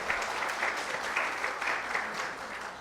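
Moderate applause comes from an audience at a trauma medical symposium in a hospital setting, a steady, somewhat distant patter of clapping hands that holds evenly through the whole moment.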